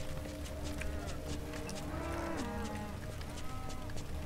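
Cows mooing in the video game Wasteland 2, a few drawn-out lowing calls fairly faint within a constant hissing ambient bed with light ticking.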